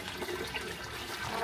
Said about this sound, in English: See this water coming down here.